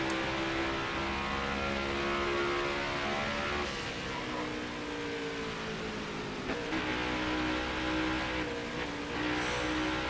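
Engine roar of Next Gen NASCAR Cup cars in NASCAR Heat 5 at Phoenix Raceway, a steady loud drone with shifting tones as cars run laps, one car heading into the pits, no talk.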